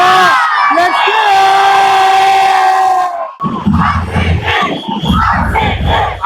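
A packed stadium crowd at an RCB vs CSK cricket match roars with sustained chanting and shrill whoops, then breaks into dense, loud cheering and yelling close around.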